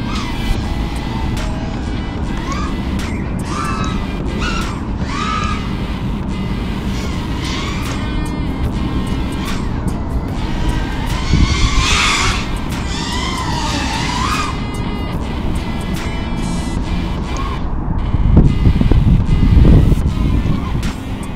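FPV quadcopter drone props whining and buzzing in freestyle flight, shifting pitch as the throttle rises and falls, with whooshing wind gusts and a louder burst near the end, close and continuous.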